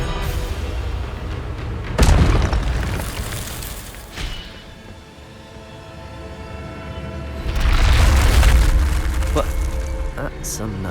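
Spell casts in the game Hogwarts Legacy, loud booming magical blasts bursting one after another with rumbling swells and sharp cracks, energetic and close, with a voice shouting incantations.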